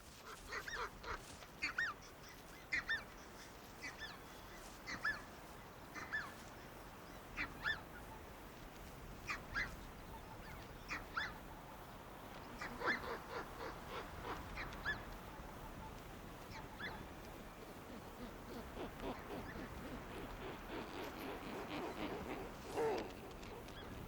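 Geese in Russia honk repeatedly outdoors while defending their young, a run of short harsh calls rising over a steady background rush, growing denser toward the end.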